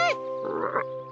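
A short croak-like grunt from a cartoon frog sounds alone over a steady hum, brief and fairly close, in a kids' Curious George episode about tadpoles grown into frogs.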